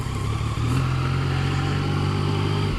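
A Yamaha FJ-09 motorcycle rides along with its engine droning steadily and loudly up close, with a brief dip near the start that could be a gear change.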